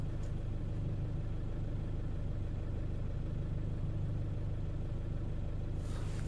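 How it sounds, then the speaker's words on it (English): Engine of a 2009 Fiat Scudo van running at idle, a steady low rumbling drone heard up close without break. "I think I'm gonna have to stop the engine because it's too loud."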